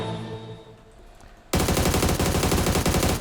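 Loud, sustained automatic gunfire in PUBG opens abruptly partway through and continues as a dense, rapid burst of shots aimed at a car, following a quieter stretch of game ambience.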